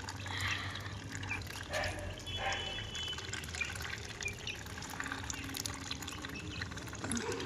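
Farm ducklings drinking water, with wet dabbling and splashing sounds mixed with outdoor background noise and a faint bark, continuous and moderately close throughout.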